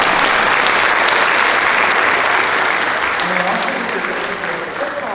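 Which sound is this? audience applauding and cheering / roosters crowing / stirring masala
audience applauding and cheering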